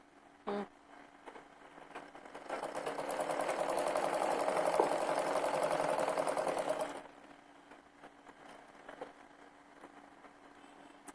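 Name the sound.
sewing machine stitching a kurti sleeve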